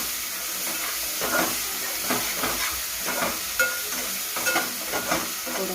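Ginger-garlic paste and chopped onions fry in a pan with a steady soft sizzle and hiss, punctuated by gentle scraping stirs at a close distance.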